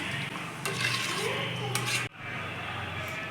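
A utensil stirs and scrapes inside a pot of mutton gravy, with soft sloshing and a few clinks of metal, close up under a low background hiss.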